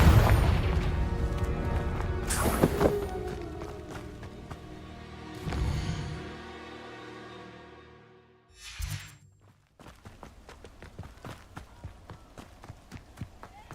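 In Hogwarts Legacy, Confringo blasting spells explode in a few loud, crashing bursts several seconds apart, each fading into a ringing decay, then quieter rapid footstep-like tapping takes over.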